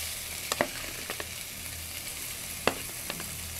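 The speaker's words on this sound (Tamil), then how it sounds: "சிக்கனை போட்டுட்டு திரும்பவும் ஒரு 2 நிமிஷம் வதக்குது" Chicken sautéing with beetroot and chilli powder in a pan, a continuous soft sizzle broken by a few sharp spatula clicks against the pan, close and alone.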